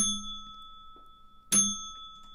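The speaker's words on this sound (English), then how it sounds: "you like my bell?" A bell rings twice, one short ding at the start and a louder, sharper strike about a second and a half later, each leaving a clear ringing tone that decays slowly in an otherwise quiet room.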